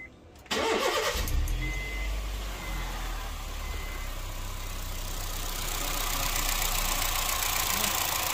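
A Honda City i-VTEC petrol car engine cranks and catches after a short quiet moment, then settles into a steady, close idle that holds for several seconds, with the replaced worn bearing no longer making noise.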